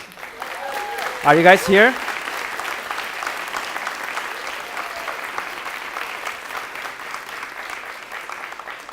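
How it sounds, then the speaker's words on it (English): Audience at an intern innovation finals event applauds the winning pitch team, steady clapping running the whole way at moderate level while a voice briefly speaks over it near the start. "Can you guys just stand up so that we can all applaud you?"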